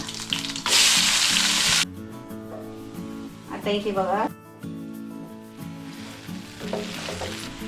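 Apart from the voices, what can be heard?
whole spices and onion frying in a pan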